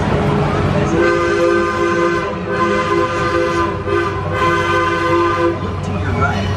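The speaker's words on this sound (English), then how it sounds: "The Longview Mine Train continues to operate in the same spot today as it is." The Longview Mine Train ride at Six Flags Over Georgia: a loud, sustained tonal whistle blows for several seconds over a rumbling ride and crowd background, with people talking nearby.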